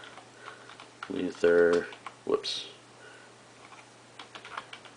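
A computer keyboard clicks during essay research, with short, light taps scattered across a quiet room. A person speaks briefly over the early keystrokes, and a few quieter taps follow near the end.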